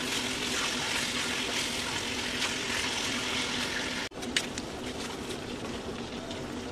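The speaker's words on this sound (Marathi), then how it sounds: "तेल गरम झालेलं आहे, चिकनचे पीस ऍड करू।" Chicken pieces fry in hot oil in a kadhai, giving a continuous close hissing sizzle that cuts out briefly, then resumes with a sharp pop and crackles.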